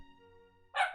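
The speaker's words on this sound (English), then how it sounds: "Hey, Luna, don't bark." A dog gives a single short bark, fairly faint and distant, set against a quiet hum in an indoor room.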